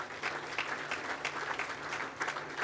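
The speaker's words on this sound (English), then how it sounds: "Give her a round of applause." A crowd claps at a medical college announcement event, a fairly quiet but steady patter of many hands with a few sharper individual claps standing out, no talking over it.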